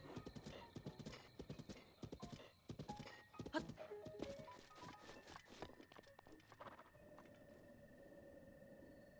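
Horse hooves clip-clop rapidly in The Legend of Zelda: Breath of the Wild, a dense, fast series of close hoofbeats that slows and fades, with a whinny and a sustained musical tone toward the end.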